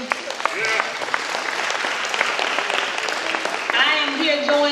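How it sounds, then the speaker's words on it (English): Audience applause and cheering for athletes at a school district ESPY Awards gala, a steady dense wash of clapping lasting throughout, loud and close, with voices mixed in. "Let's give a round of applause to our athletes."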